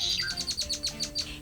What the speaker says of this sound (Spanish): Los pájaros trinan.